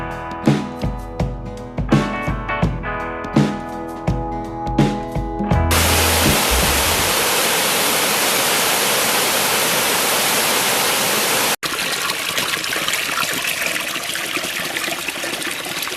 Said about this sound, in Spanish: Una cascada tobácea me da la bienvenida a Aragosa